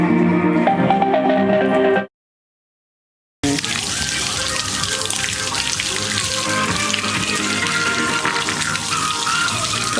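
Tap water runs and splashes over a boAt Stone 200 Bluetooth speaker while music keeps playing, the stream steady after a brief silent gap near the start.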